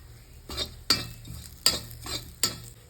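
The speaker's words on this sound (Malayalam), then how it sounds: "അതിലേക്ക് നമുക്ക് നമ്മുടെ കുരുമുളക് ഇട്ട് കൊടുക്കാം അതുപോലെ തന്നെ ഒരു ചെറിയ തണ്ട് കറിവേപ്പില ഇതും കൂടി ഇട്ട് കൊടുക്കാം" Pepper and a sprig of curry leaves go into coconut frying in a pan, giving a soft sizzle broken by sharp stirring scrapes about every three-quarters of a second, close and clear.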